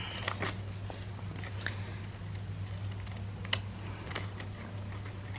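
Blunt scissors snip through paper while a photo folder is made by hand, giving a string of short, close, crisp cuts spaced irregularly over a low steady hum.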